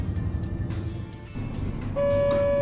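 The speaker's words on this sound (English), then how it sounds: "But the bus stopped, and the sound of the door opening disturbed us." A bus pulling to a stop under a low engine rumble, followed by a bright sustained tone and hiss as its door opens.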